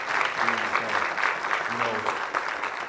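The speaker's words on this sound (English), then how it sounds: "I'd like for each and every one of you to give yourselves a round of applause" A crowd claps outdoors at a community stop-the-violence walk, a moderate wash of applause with faint voices or tones mixed underneath.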